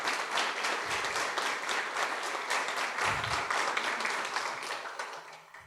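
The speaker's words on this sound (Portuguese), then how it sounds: "Uma salva de palmas, pessoal." An audience at a university philosophy café gives a warm round of applause to a guest, many hands clapping steadily at close range, with a couple of low thumps and a gradual fade at the end.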